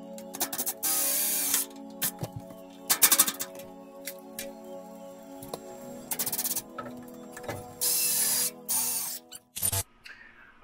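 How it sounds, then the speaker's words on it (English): A power driver sends 2.5-inch wood-to-metal self-tapping screws into a 2x2 wood frame for a subfloor, giving several short loud whirring bursts separated by pauses. "now that this 2x2 is put in place, screwed on with the wood to metal self-tapping screws"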